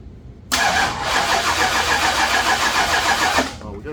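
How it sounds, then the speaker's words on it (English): A brand new Ford 460 V8 in a Thunderbird cranks and fires on its first start, a sudden loud, close engine roar that holds steady for about three seconds before cutting off. "This is a first start, brand new motor."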